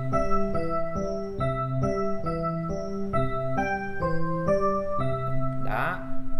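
An electric piano plays a slow sequence of chords and notes with a bright, bell-like chiming tone, ending in a short shimmering flourish.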